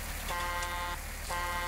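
A train-style horn fitted to a tractor in Farming Simulator 19 sounds two sustained, tonal blasts separated by a short gap, loud over a low engine rumble.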